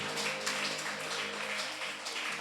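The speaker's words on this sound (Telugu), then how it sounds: "చప్పట్లు కొడదాం." A church congregation claps hands together in steady, dense applause during a prayer service; the sound is fairly quiet and continuous, with no talking over it.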